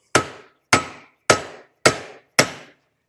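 Five sharp, evenly spaced metal strikes ring out close and loud as a hammer drives a 13/16 socket against a bad U-joint held in a vise on a Bush Hog 286 driveline, each blow decaying quickly before the next.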